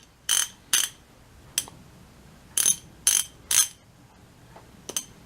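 A used Snap-on 1/2-inch drive ratchet clicks in short bursts, about seven separate sharp ratcheting runs with quiet gaps between them, close and crisp with no talking.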